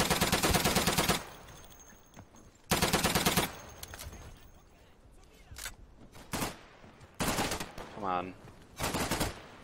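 Machine gun fire in the WWII shooter Day of Infamy: long loud automatic bursts alternating with shorter rattles and single shots, with a player briefly speaking between them.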